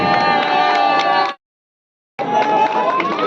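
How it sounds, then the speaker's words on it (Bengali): Crowd clapping and cheering at a festive two-day local football event, a dense steady roar that cuts out briefly, then resumes at similar loudness. "আসুন করতালি দিন"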